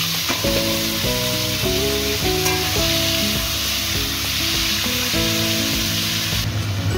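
Taro stolons tipped into a hot pan with oil, salt and green chillies, frying with a steady loud sizzle while tonal chimes and a melody play over it, no talk.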